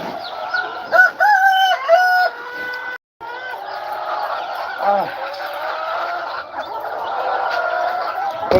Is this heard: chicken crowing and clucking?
yes